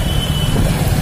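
Big SUVs such as a Toyota Fortuner and Innova pass on a busy road in Baluganj, Agra, giving a loud, continuous broadband engine and road rumble close by.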